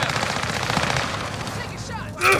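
Rapid automatic gunfire in Call of Duty: Modern Warfare, a dense sustained burst of shots over battlefield noise, with a sharper report near the end.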